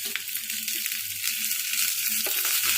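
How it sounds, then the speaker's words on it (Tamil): Onions sauté in oil in a pan for the tempering of a South Indian green gram and spinach kadaiyal, giving a steady, close sizzle throughout with no talk. "வெங்காயம் நல்லா வதங்கிடுச்சு."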